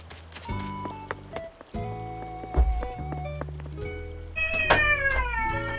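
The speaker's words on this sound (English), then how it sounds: "Stupid cat." A cat in Animal Crossing meows several times amid a busy background of tonal music-like sounds, the calls moderately loud and close.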